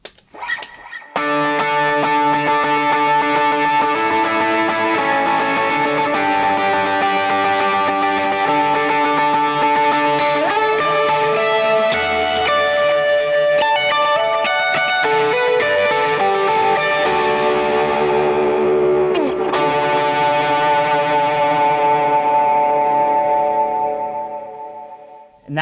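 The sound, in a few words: electric guitar through Klon overdrive, Prince of Tone and boost pedals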